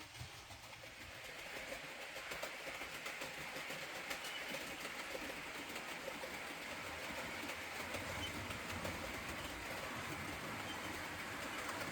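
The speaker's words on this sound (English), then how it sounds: "motored NDM hauling a 12-car train up the hill" A model APT NDM motor car hauls a 12-car train up an incline with a faint, steady running whir that swells slightly, and soft bird calls in the background.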